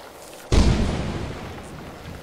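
A lightning strike in the game Lethal Company on a modded moon: one sudden loud crack at the start that settles into a long rumbling roll, with no talk over it.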